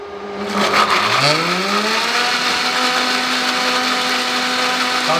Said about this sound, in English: Now we're going to turn this on. This is a posh blender.